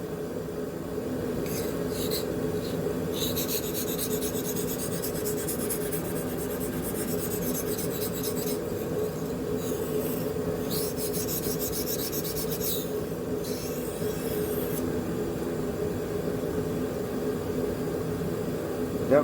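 An AEB-L steel knife blade rubs along the fine side of a sharpening stone in a series of rasping strokes, with short pauses between strokes, close and steady.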